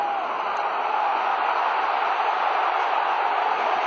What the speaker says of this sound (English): The crowd is so raucous now.